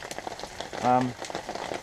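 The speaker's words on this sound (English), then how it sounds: "The rain is just such a wonderful sound on the tarp" Rain falls on a camping tarp beside a campfire, a dense, steady crackling patter heard up close, broken by one brief hum.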